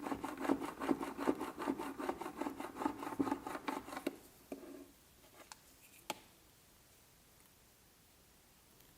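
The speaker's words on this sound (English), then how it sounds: "Now I'm going to take my scraper tool and firmly press on the letters." Scraper tool pressed firmly over vinyl letters on transfer tape, making a quick run of close, rhythmic rubbing scrapes that stop abruptly, followed by a few soft taps and near silence.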